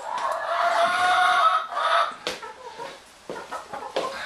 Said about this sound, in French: Il y a des poules dans le studio.